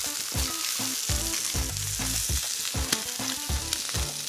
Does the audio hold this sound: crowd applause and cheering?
no